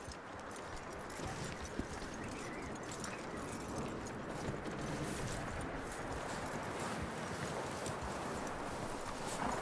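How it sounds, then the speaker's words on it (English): Horse hooves clip-clop steadily in Red Dead Redemption 2 on a PS4 Pro, a continuous run of hoofbeats blended into dense, even game ambience with no talk. "That looks like a decent horse."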